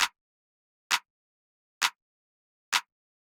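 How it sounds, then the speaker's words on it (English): Four crisp electronic handclaps, evenly spaced and isolated, each a short bright snap with silence between. "Clap sounds like this."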